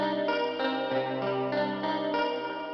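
Ableton Live's 12-string chorus guitar preset played with plectrum picking, a shimmering chorused tone with a steady series of picked notes re-struck roughly every half second, moderately loud and alone.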